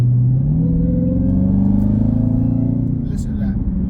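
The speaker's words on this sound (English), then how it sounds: "the sound of the supercharger, the sound of the exhaust." Supercharged Dodge Hellcat Widebody engine and exhaust, a loud steady low rumble with harmonic whine rising slightly, close and continuous throughout, with voices present in the background.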